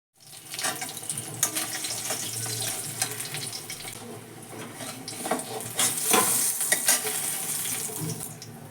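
Tengra fish fries in a pan with a continuous close sizzle and hiss, broken by occasional stirring scrapes and spatters.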